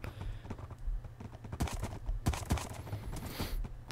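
Donkeys in the Minecraft video game walk slowly, giving a run of close, evenly paced hoof clip-clops over a low background hum.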